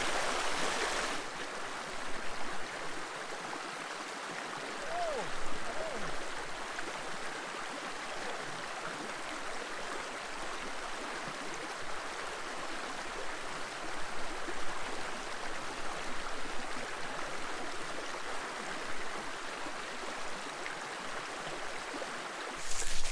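Canfield Creek water rushes and flows steadily at a crossing in Forestville Mystery Cave State Park, Minnesota, a continuous close broadband wash that stays even throughout.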